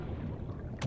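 Seamoth submarine vehicle in the video game Subnautica, a brief watery engine hum and swish that ends in a sharper splash-like burst.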